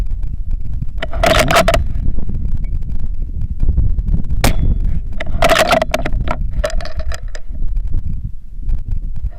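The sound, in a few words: bullet impact on distant steel target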